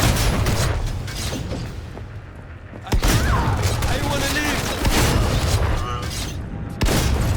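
Heavy blasts from a shotgun in a first-person shooter game ring out at about three and seven seconds, loud and punchy over a dense bed of game noise and mechanical clatter.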